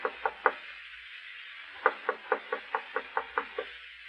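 Knocking on a door as a radio drama sound effect: three quick knocks, a short pause, then a steadier run of about nine firm, evenly spaced raps, close and clear over a quiet background.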